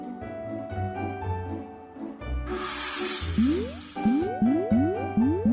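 Cartoon water droplets knock inside cactus spines in a children's science animation, heard as a playful series of watery squishes and rising bloop tones, with a brief hissing spray in the middle, all set over light background music.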